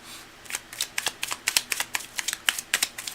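A tarot card deck shuffled by hand, a quick run of crisp, close riffling slaps and flicks in an irregular rhythm, with no talking over them.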